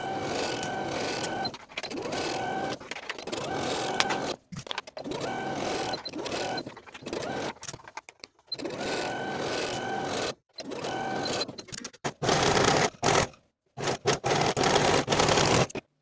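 A sewing machine stitches the curved crotch seam of Butterick 6865 comfy pants at a 5/8 inch seam allowance, running in steady bursts of several seconds broken by brief pauses, up close and loud.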